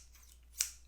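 Scissors snap shut once in a single sharp, brief cut near the end, close and clear over a quiet background, with no voices.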